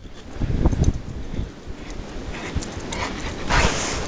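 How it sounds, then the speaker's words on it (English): A large 100-pound dog pants in deep blizzard snow in a front yard, breathing in short bursts close by while wind rushes through the microphone. "That's a 100-pound dog right there."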